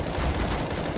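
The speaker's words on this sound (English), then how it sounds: "Nico's got the wall bangs." Gunfire fills a Counter-Strike match as players shoot through walls in a pro CS:GO esports game. It comes as a dense, loud, continuous burst of rapid shots.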